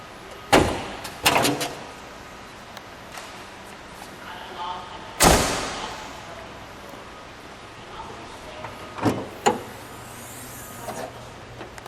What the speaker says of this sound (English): Let's open the hood, shall we?